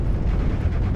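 Artillery strike destroying an M8 Greyhound armored car in Steel Division: Normandy 44, a loud, dense low rumble of blast and debris sustained through the whole second, with no talk.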